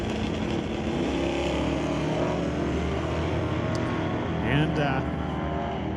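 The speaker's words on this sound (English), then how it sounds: "Kyle Fredrickson in the left lane out of Duncan, BC, driving that 85 GMC square body, taking on Mike Render in the 85 S10" Drag race with a 1985 GMC square body and a 1985 Chevrolet S10 roaring down the track. A dense, sustained engine roar runs under a track announcer's commentary, and a brief sharp burst comes near the end.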